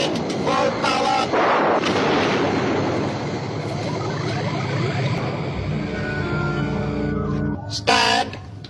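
A Dalek weapon firing from Doctor Who, a loud sustained electronic blast with a rumbling, grinding texture that shifts into a ringing tonal drone before a brief sharp burst near the end.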